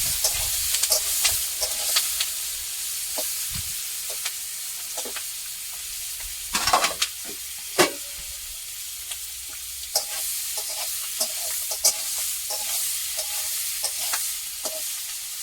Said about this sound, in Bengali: চিংড়ি মাছটা ভাজা হয়ে গেছে, এবার আমি নামিয়ে নেব